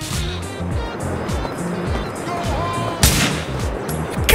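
Gunfire during a mission in GTA IV: The Ballad of Gay Tony, with repeated rapid bursts of shots over vehicle noise, ending in a sharp louder crack near the end.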